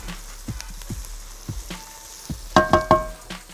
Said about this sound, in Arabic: هاخد الروزماري بتاعي المفروم، الزعتر المفروم، هقلب اهو تاني